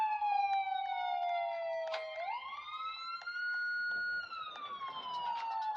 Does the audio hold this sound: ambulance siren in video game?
yes